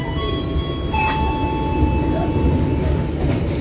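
Indonesian KA Brantas passenger train running, a steady loud rumble of the carriage interior with a faint whine and tonal hum throughout, heard from inside the economy car approaching Madiun station.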